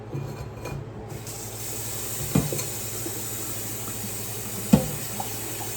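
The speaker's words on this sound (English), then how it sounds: "I'm just washing my plate so I can take you through it." A plate gets washed under a running kitchen tap, a steady close stream of water with a couple of sharp clinks as the dish knocks against the sink.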